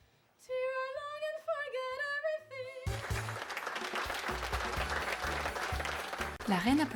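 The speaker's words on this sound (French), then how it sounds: "La reine applaudit" An audience applauds a young blind girl's musical composition during a queen's visit to a association for the blind. Steady, full clapping begins after a voice and holds to the end, with a voice over it near the close.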